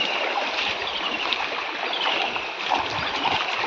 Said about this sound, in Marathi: हा आमचा आता व्हाळ. या व्हाळावर पाणी बऱ्यापैकी वाढला आता.